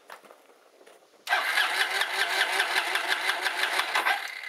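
Scooter engine started without a battery charger in winter: a short cranking, then the small engine catches and settles into a loud, rapid, steady idle putter close by.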